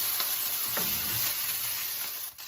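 Beef browning in a hot pan for Chinese stir-fried steak gives a steady, dense sizzle with faint crackles, continuous and close, fading slightly at the end.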